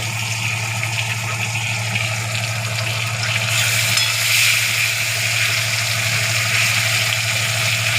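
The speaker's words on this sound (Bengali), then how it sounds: "এই দেখুন আমার ভোলা মাছ ভাজছি ভালো করে ভেজে নেব" Bhola fish pieces rubbed with salt and turmeric sizzle steadily in hot oil in a pan. The frying hiss is close and continuous, with no voices over it.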